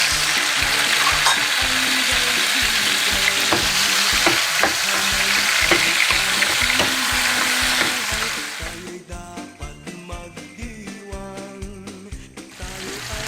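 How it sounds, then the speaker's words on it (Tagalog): Ginger and tomatoes being sautéed in a pan for beef shank kare-kare: steady loud sizzling and frying with stirring scrapes, easing to quieter crackling toward the end, no talk. "Ayan, pag natanggalan natin yung bawang, gisa na natin yung luya"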